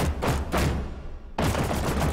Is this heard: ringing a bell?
no